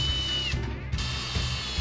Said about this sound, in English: I'm going to keep my drill on low just to get all the screws started